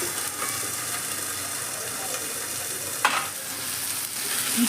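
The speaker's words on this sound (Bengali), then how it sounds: "পেঁয়াজ আর আলুটাকে এবার ঢাকা দিয়ে উল্টে পাল্টে খুব ভালো করে ভেজে নেবো" Sliced round potatoes and onions fry in a pan, with a steady, fairly quiet sizzle and hiss under occasional stirring scrapes, plus one sharper clatter near the middle; nobody speaks.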